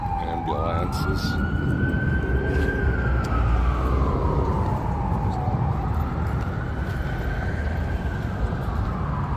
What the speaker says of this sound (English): Ambulances.